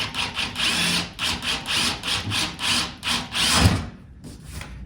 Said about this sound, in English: I like to drill a little pilot hole